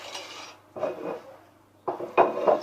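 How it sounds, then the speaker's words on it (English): Pork and warm chickpea salad being mixed in a bowl, with three short bursts of utensils scraping and clinking against the dish separated by brief quiet pauses, close and clear. "I'm going to add just a touch more salt, another mix"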